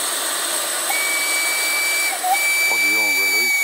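A French steam locomotive, class 141, lets off a continuous loud hiss with a thin high whistle-like tone running through it, close by and steady throughout.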